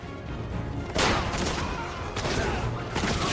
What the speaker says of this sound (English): the cannon barricade tears unarmored guys apart